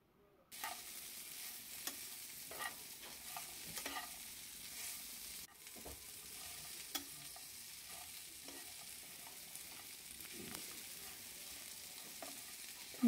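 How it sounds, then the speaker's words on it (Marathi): Chopped okra (bhendi) sizzles steadily in a pan with turmeric and asafoetida for lasuni bhendi, while a spoon stirs it in occasional soft scrapes and taps. The sound is quiet and close, with no talking. "आता त्यात आपण चिरलेली भेंडी टाकून घेऊ।"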